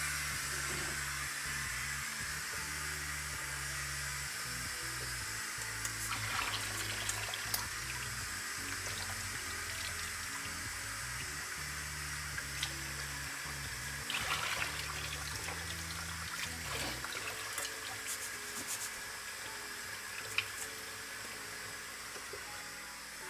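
Washed rice sits draining in a strainer, giving a soft continuous trickle and hiss of water with a few faint clicks and drips, steady and quiet throughout with no talk.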